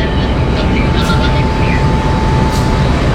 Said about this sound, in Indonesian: Kereta api lokal Walahar tiba di stasiun Cikarang terlambat 10 menit teman-teman